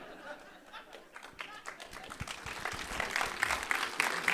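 An audience claps at a symposium, a mix of clapping and murmuring voices that starts scattered and swells into fuller, louder applause toward the end, with some chatter and a little laughter.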